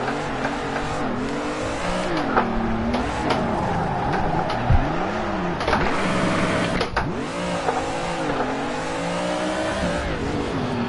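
Car drifting in the video game Assetto Corsa, driven with a steering wheel, engine revs swooping up and down with squealing tires, loud and continuous throughout.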